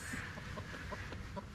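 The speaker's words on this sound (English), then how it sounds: "We have a pet chicken now." Pet chicken clucking softly close by, short repeated low clucks in an uneven rhythm over outdoor background noise.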